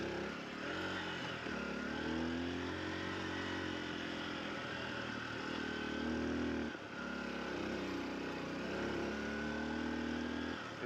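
A Honda XR150L motorcycle riding along a packed dirt trail, its single-cylinder engine humming steadily at moderate revs with slight rises and dips in throttle, heard close and continuous without talk.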